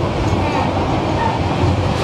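Inside a moving passenger train, a steady loud rumble of the carriage runs throughout with a faint rhythmic clatter.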